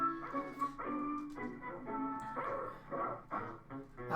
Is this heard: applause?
no